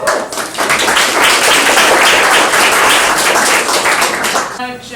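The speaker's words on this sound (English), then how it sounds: "So can we give Ashley a round of applause?" Audience applause for a guest speaker at a zero-waste social evening, a dense, steady burst of many hands clapping close by for about five seconds before fading, with a voice starting to speak at the end.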